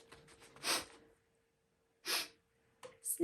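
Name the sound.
voice imitating a flea's sniffles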